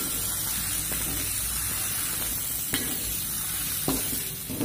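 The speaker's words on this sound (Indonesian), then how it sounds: "Di situ tujuan saya tumis dulu supaya bumbunya meresap ke dalam sayurnya ya" Vegetables stir-fried with seasoning in a pan give a steady, close sizzle and hiss with occasional louder crackles and stirring clatters, no voices.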